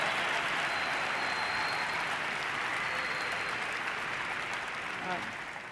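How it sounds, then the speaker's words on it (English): Audience applause and cheering fill an award ceremony hall, a dense, steady wash of clapping that holds for several seconds and eases slightly toward the end. "why don't we thank Abdullahi's mother with a big cheer"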